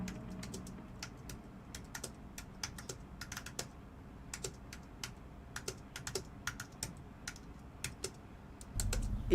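Rapid clacking keystrokes on a computer keyboard, irregular bursts of close, crisp taps over a quiet background, with a low thump near the end.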